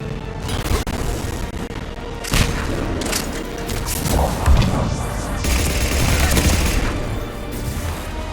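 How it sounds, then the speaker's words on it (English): Gunfire in Mass Effect 3 during a firefight: repeated shots and booming impacts over loud battle noise, with crashes and bursts scattered throughout. "We're under fire"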